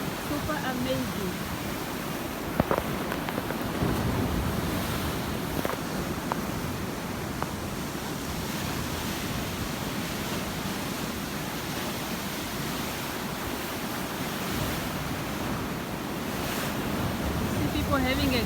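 Steady, broad wash of Atlantic Ocean surf at Swakopmund, Namibia, roaring continuously and close with wind noise, no distinct individual breakers standing out.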